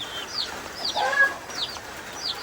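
Hungry chicks and hens on a wet farm, several short high peeps and a brief cluck close by, moderately loud over quiet background, no speech.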